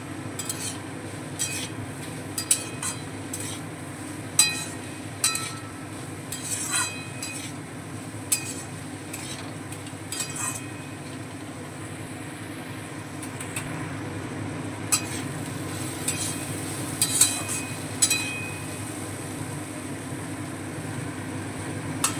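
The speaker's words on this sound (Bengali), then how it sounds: "এবারে সমস্ত মশলাগুলো সবজিগুলোর সঙ্গে ভালোভাবে নেড়ে মিশিয়ে নেব।" Spices including Kashmiri chilli powder being stirred into vegetables and tomatoes in a cooking pot, with a soft sizzle under repeated scraping and clinks of a utensil against the pot.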